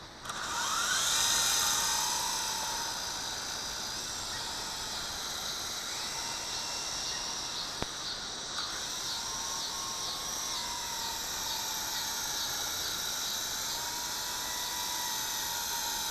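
A Sky Rover Exploiter S drone flies in wind with a steady high-pitched whine of its propellers, a bit louder at the start and then holding a constant buzzing hiss at a moderate distance, with no voices.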